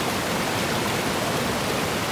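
Water pours through a clear-walled gold trap in a field test, with the material inside bubbling and fluidized; a loud, unbroken hissing rush fills the whole moment.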